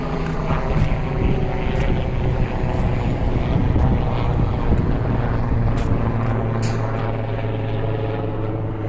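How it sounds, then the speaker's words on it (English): A hospital emergency helicopter passes close overhead in Halifax's Hydrostone area: a steady, loud engine drone with a low rotor hum throughout, with no talking. "I think that's the helicopter for the hospital"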